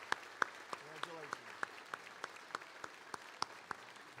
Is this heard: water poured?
no